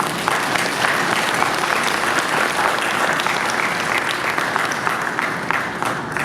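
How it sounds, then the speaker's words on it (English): Sustained audience applause at a graduation commencement ceremony, a dense, even wash of many hands clapping that holds steady and fairly loud for the whole stretch without letting up. "Let's give them a round of applause."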